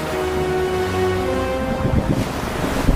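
Rushing floodwater and waves surge steadily under a low tonal rumble, growing rougher and choppier toward the end, with no voices.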